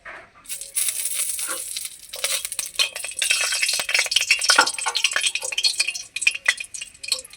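Whole spices and a bay leaf crackle and sizzle in hot oil left from frying eggplant, a steady bright hiss with small pops and occasional clinks of a stirring spoon, close and continuous with no talk.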